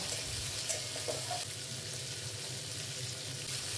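Long-sliced onions frying in oil in a pan for a katla fish-bone curry. A faint, steady sizzle hiss continues evenly at close range, with a few light stirring touches near the start and no voices.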